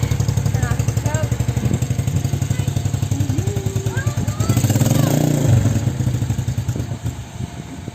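A four-wheeler ATV engine idles steadily after a cold start in freezing weather with the choke just turned off, a loud, continuous near chugging hum while people talk over it.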